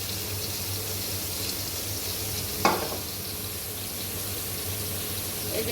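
Chopped onions sizzle steadily in a hot pan with oil while a rui fish and green banana curry is cooked, giving a constant hiss with one short clatter of a utensil partway through.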